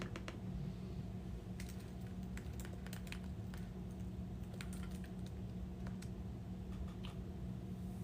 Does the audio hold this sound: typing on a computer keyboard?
yes